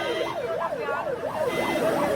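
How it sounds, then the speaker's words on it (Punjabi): An ambulance siren wails in a steady rising-and-falling pattern, repeating about every third of a second to half second, loud and close over a background of road noise, with no talk. "ਐਂਬੂਲੈਂਸ ਆ"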